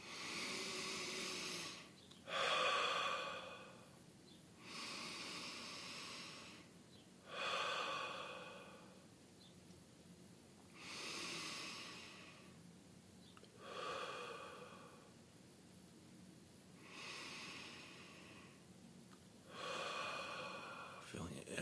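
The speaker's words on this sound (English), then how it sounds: "breathing in through your nose and then out through your mouth" Slow guided breathing during a live meditation, each breath drawn in through the nose and let out through the mouth, heard as about seven long, soft airy breaths spaced a few seconds apart, close and alone.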